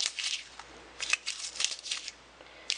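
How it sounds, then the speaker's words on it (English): Strips of paper being crumpled by hand make soft, irregular crackling and rustling bursts, quiet and close, with short pauses between handfuls. "And what I want you to do is just crumple it up."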